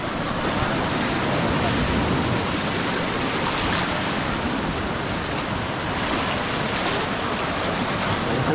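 Steady broadband wash of water current along a beach shore, loud and continuous with a faint swelling, with no voices.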